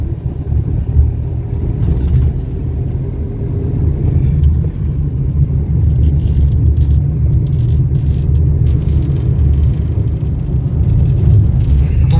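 Interior drone of a car cruising on the Mumbai-Goa highway between Parshuram Ghat and Kolad, a loud, steady low rumble of engine and road noise with faint passing swells.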